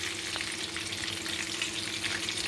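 Pieces of chicken fry in hot oil until red and crisp, giving a steady, close sizzle with soft crackling throughout and no voices.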